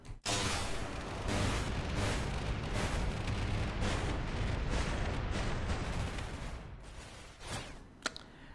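A defense turret firing a barrage of missiles in Space Engineers: a loud, continuous roaring rush of launches and blasts that pulses for several seconds and then thins out toward the end.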